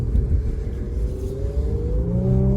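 A 2019 Infiniti Q50 Red Sport 400 AWD accelerates through snow, its engine a steady, close rumble with a rising pitch as the revs climb. No voices are heard.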